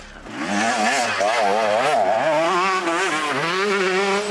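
A KTM SX125 two-stroke motocross motorcycle engine whines close by, its pitch wavering up and down as the rider works the throttle, then settling as it moves past.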